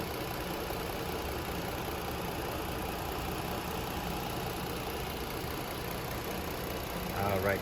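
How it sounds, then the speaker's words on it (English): A 2015 Ford Explorer XLT AWD engine idles steadily with the hood open, a smooth, even hum held at a constant level throughout, with a slight rise near the end. "nice and smooth running engine. There's no odd noises or vibrations."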